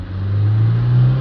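A diesel car engine with a blocked DPF revs up steadily, a loud low drone rising in pitch over a second or so.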